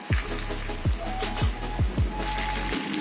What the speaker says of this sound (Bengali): জানলাটা বন্ধ করেই দে, বৃষ্টির জল আসছে এদিকে